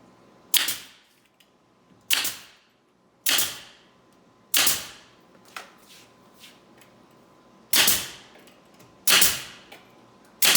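A pneumatic nail gun fires into the sides of an RTA wall pie cut cabinet, fastening them to floor and ceiling panels; seven sharp, loud cracks land about a second or more apart in a quiet room.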